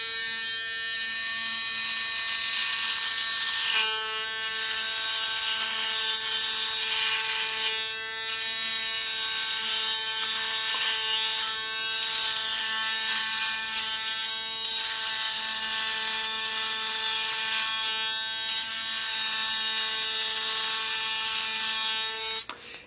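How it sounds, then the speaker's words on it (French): A Panasonic Arc 3 ES-LT67 electric razor runs steadily through a shave, a close, loud buzzing hum with bright harmonic whine that shifts slightly in pitch as it glides over the face, with no talking. "Le rasoir va fonctionner et lorsque c'est terminé, on n'a qu'à appuyer dessus."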